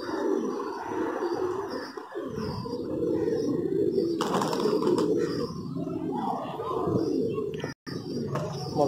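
Pigeons coo in low, repeated throaty calls close by during a pigeon catch, with chirps and brief scuffling, over a steady background.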